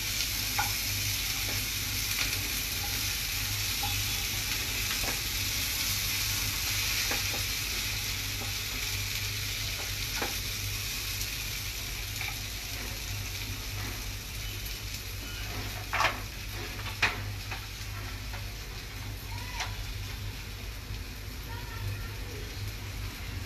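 Ginger garlic paste sizzling in a pan, a steady close crackle with scattered clicks and scrapes from stirring, and a voice talking over parts of it.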